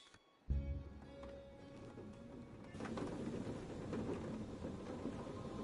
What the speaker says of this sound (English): Outside, the storm raged.